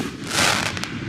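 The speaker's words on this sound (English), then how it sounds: "Yeah, we got some fireworks going." A large firework bursts overhead, a loud broad crackling blast that swells and echoes, followed by a couple of sharp pops, with no talking.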